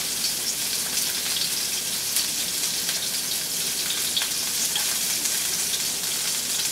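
Chopped onions and garlic fry in a hot pan with a steady, close crackling sizzle and no talking.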